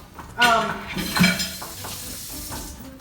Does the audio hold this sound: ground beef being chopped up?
yes